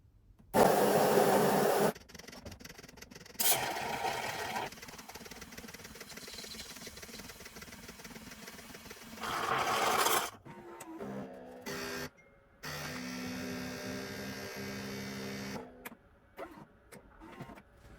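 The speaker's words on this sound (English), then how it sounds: "I'm gonna go turn up the froth so we get more froth in the machine." An espresso machine's steam wand froths milk for a cappuccino, its hiss rising in loud bursts between quieter stretches of machine hum and clatter, with no talking.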